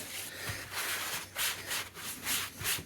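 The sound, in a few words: mopping up excess water on plaster rocks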